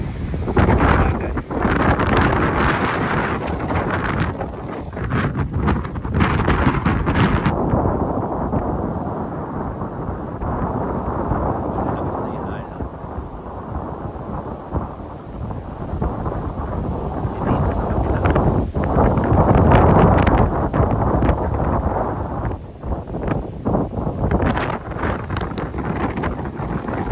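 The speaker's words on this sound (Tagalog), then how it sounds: "Grabe, lakas ng hangin eh." Strong typhoon wind roaring and buffeting the microphone continuously, loud and close with gusting rumble throughout, no talking.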